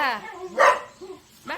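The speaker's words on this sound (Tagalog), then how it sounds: "May aso yata dun sa labas." A dog barks outside, apparently at cats, in a couple of short, fairly loud bursts mixed with nearby talk in a home.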